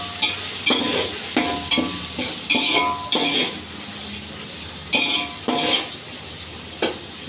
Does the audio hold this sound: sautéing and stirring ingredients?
yes